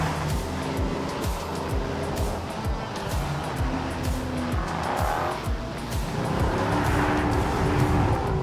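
A 1968 Dodge Charger and a Mustang tear through a Bullitt car chase. Loud engines roar and rise through the gears, with tires squealing and skidding in repeated bursts and no voices.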